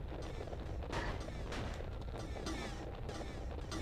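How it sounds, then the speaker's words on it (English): Repeated gunshots in the 2008 PS2 game Alone in the Dark, a steady run of heavy booming reports with clanking mechanical noise underneath, continuous and fairly loud throughout. "I'm just gonna shoot like a bunch."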